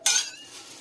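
Khichuri stirred in a pot right after water is added, giving a short bright clink and scrape of a utensil against metal, then a soft fading wash of sound, close and alone.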